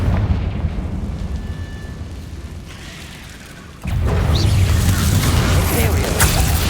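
A Confringo spell in Hogwarts Legacy bursts into a loud, sudden explosion partway through, then a sustained roaring rumble follows over dense game combat noise.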